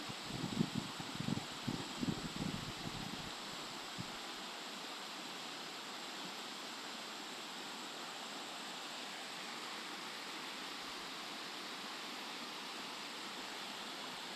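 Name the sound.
rushing floodwater in river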